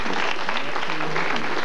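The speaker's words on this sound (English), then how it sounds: "Give her a round of applause." A crowd applauds at a college hypnosis show as a volunteer models a sweater on stage, a brief continuous wash of clapping heard under a voice.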